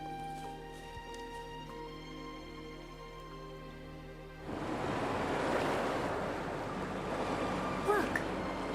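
Water rushing and draining away in the video game Wuthering Waves, starting abruptly partway through as a loud, steady broadband wash after a quieter tonal music bed, continuing to the end.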